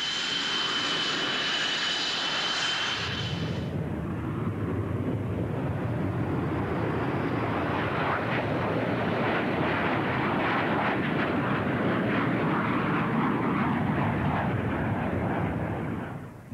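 An F/A-18 Hornet jet in flight produces a steady, loud engine roar that stays level and sustained throughout. A high whine fades out early on, and no voices are heard.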